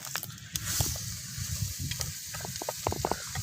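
Shallots fry in hot ghee with a close, crackling sizzle and scattered spatters, while a utensil occasionally scrapes and clinks against the pan.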